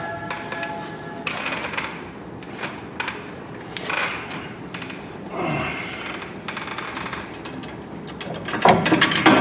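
A breaker bar works loose tight 18mm rear brake bolts on a Dodge Grand Caravan, making a series of close, irregular metallic clicks and ratcheting bursts separated by short pauses, with no talking.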